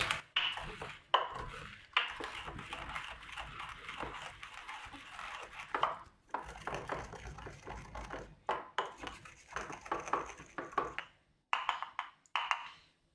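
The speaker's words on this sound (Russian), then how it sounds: "я могу растолочь сычуанский перец" Repeated gritty grinding and tapping of a pestle crushing Sichuan peppercorns in a mortar, in uneven bursts with short pauses between.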